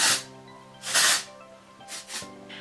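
Hair texture spray hisses from a can in four short bursts, two longer blasts followed by two quick ones, close and loud over a faint steady hum.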